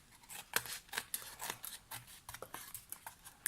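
Scissors snip repeatedly through card for handmade greeting cards, a quick irregular series of close, crisp cuts at low volume.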